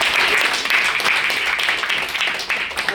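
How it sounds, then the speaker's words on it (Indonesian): Audience applause for two guest speakers at a student talk show, a dense, even patter of many hands clapping for about three seconds at moderate volume. "beri dulu tepuk tangan"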